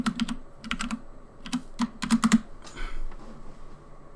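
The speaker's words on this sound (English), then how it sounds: "You may hear typing. My keyboard is right next to my microphone," Fast clicking keystrokes on a computer keyboard placed beside a microphone come in short bursts and irregular clusters, close and crisp, with no speech.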